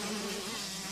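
Several 125cc two-stroke motorcycle engines racing on a track buzz at once like a swarm of bees, a constant whining drone that holds steady throughout.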